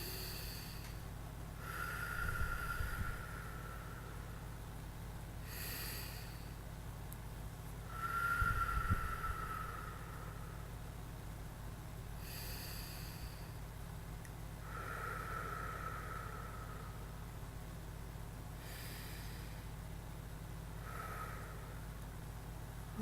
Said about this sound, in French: On prend de grandes respirations.